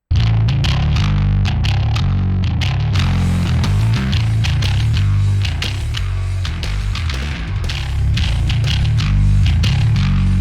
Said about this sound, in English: So I had to throw on a distortion pedal just to see how nasty we could get the tone